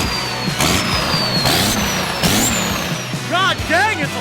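A diesel-swapped 2017 Mustang GT with a 12V Cummins engine roars loudly and steadily, its deep rumble rising and falling in pitch while voices talk over it.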